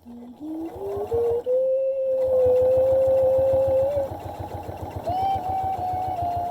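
A sewing machine stitching a pinch-snap coin purse hums in a steady close rhythmic chug, with a rising tonal whine over it, pausing briefly and then resuming at a slower pace, with no talking.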